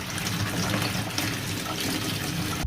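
Continuous loud rush of water flowing through a car's original coolant reservoir as it is rinsed out to flush rust, steady and close with no talking.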